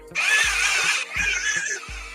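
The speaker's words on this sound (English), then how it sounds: "I'm gonna sharpen this really quick" Two short grinding bursts from an electric pencil sharpener biting into a colored pencil, shrill and whirring, close up, separated by a brief pause, with faint clicks underneath.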